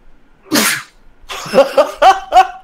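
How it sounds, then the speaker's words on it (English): A single sharp, close sneeze bursts out near the start, followed by a few quick voiced sounds in the room. "Sneezed."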